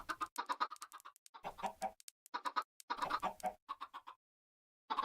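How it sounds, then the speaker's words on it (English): Minecraft chickens clucking in a video game, a run of short, bright squawky clucks in several bursts with brief gaps, fairly loud and close, no talking. "Chickens, come here."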